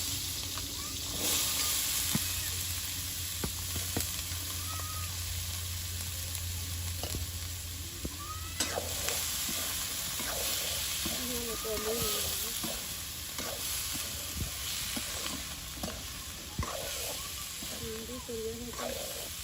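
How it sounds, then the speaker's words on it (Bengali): Potatoes sizzle in hot oil in a village kitchen, a steady soft hiss with occasional stirring scrapes and a voice talking at times. "তেল হয়ে আসছে, দিয়ে দিচ্ছি আলুগুলো।"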